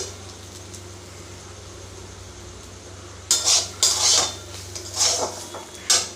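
Semolina dry-roasting in a pan for a spiced semolina dish, a steady low hum at first, then from about halfway a run of close, loud metal scrapes and clinks as a spoon stirs it.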